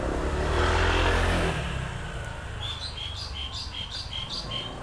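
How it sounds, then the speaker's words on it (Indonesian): Birds chirp in a repeating series of short bright calls outdoors, following a stretch of broadband rumble and traffic-like noise that fades out near the start. "Oh, burung juga, ada suara burung."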